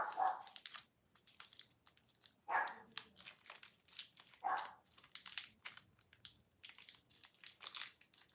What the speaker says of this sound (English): The one that you probably just heard barking is named Kimchi